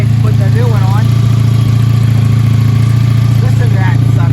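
A 1984 Honda V65 Sabre VF1100S motorcycle engine idles steadily after a cold start, a loud, even low rumble with a fast regular firing pulse, while someone talks over it.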